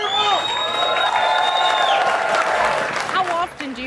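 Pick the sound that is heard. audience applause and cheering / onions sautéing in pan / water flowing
audience applause and cheering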